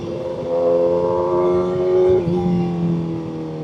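A 2025 Kawasaki ZX-6R sport bike engine revving hard while riding, a loud close whine that climbs, dips briefly at a shift and carries on steadily.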